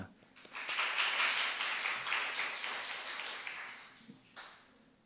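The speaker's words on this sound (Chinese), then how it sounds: "我们拍手欢迎他" A church congregation applauds in welcome during a Sunday service, a swelling burst of mixed clapping that fades out over a few seconds.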